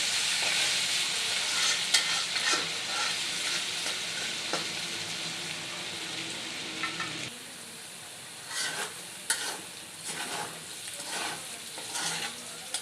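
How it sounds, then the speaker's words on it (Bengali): Potato cubes sizzle and fry steadily in a hot pan, with occasional stirring scrapes and clicks; the sizzle drops a bit quieter midway. "ভালো করে ভেজে নেব আলুটা"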